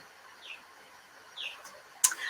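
Outdoor birds call while flying, with a few faint, brief chirps spaced a second apart and then a sharper, louder note followed by rustling, all distant and quiet.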